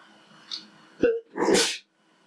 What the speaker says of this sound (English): I need to sneeze a second